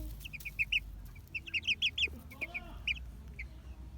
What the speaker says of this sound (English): these are the chickens I bring outside.